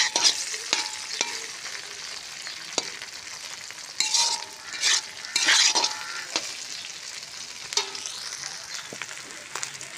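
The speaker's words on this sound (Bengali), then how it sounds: "দেখো আলু ভাজিটা সুন্দর করে ভেজে নিচ্ছি।" Potatoes frying in a pan for a Rajbanshi-style curry, a steady close sizzle with repeated stirring scrapes and occasional utensil knocks, louder bursts of hissing around the middle.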